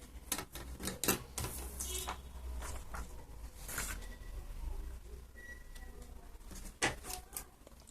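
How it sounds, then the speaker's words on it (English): Scissors cutting a paper mask, quiet crisp snips and rustling paper in irregular bursts, close by and fairly faint. "So I'm going to cut this out."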